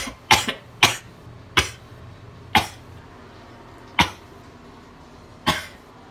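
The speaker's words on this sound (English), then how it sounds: "You're coughing a lot." Someone coughs in a bathroom, six sharp, separate coughs spaced irregularly over a few seconds, close and fairly loud against a quiet background.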